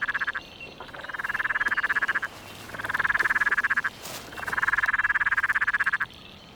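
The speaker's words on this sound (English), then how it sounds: "Peron tree frog, about 4 seconds." Peron's tree frog calls in three long bursts of rapid pulsed trilling, each lasting about one to two seconds with short pauses between, clear and fairly close.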